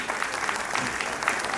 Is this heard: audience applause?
yes